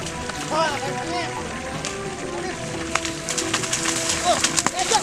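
Heavy rain pours down continuously outdoors, a dense hissing patter with sharper drops and splashes growing louder toward the end, while people talk over it.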